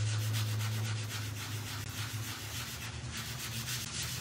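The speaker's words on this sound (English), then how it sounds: "I'm just sanding that back and making sure that we are nice and smooth" Sandpaper rubs back and forth across wood in steady strokes, a soft rhythmic scratching heard up close with a low hum underneath.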